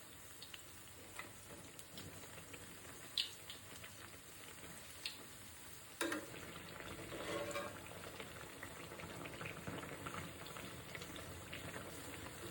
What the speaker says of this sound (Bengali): বেগুনি একটু টাইম লাগে ভাজায়, একটু আস্তে আস্তে টাইম দিয়ে ভাজতে হবে।